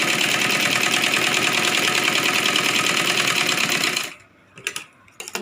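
A sewing machine runs loud and close at a steady pace while stitching a Rajputi kanchali blouse, then stops abruptly, leaving light handling clicks and rustles.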